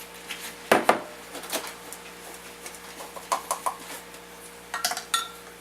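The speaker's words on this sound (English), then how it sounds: "we're just going to sift this all together" A sifter works cake flour, salt and baking powder, its metal parts clanking and clicking in short irregular bursts, loud and close.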